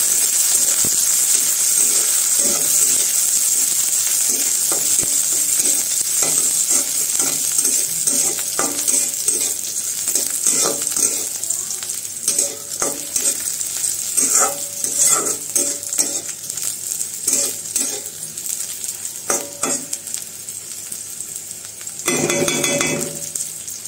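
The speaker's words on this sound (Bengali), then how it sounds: "এখন একটু ভেজে নেব।" Chopped garlic and onion fry in a pan with a constant hiss, close and loud, broken by repeated spatula scrapes and metallic clinks against the pan, and a burst of louder stirring toward the end.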